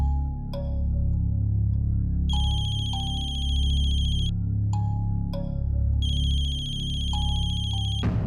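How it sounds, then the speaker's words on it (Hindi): A mobile phone hidden somewhere in a house plays a loud electronic ringtone, a repeating pattern of bright beeping tones and sustained chimes that cycles continuously over a low background hum. "फोन की आवाज तो यही कहीं से आ रही है।"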